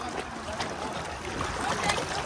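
Water gushes under high pressure from a tube well, a continuous rushing, splashing roar that stays loud and close throughout the short stretch.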